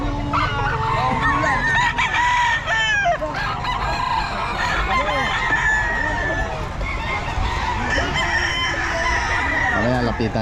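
Several gamefowl roosters crow loudly one after another over a steady background of hens clucking, busy and close by, on a farm after rain.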